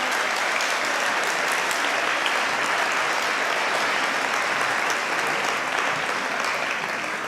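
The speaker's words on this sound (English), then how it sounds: "can we give them one more round of applause?" Sustained applause from an audience at a junior school art night, honoring student performers; steady, dense clapping at full volume throughout without a break.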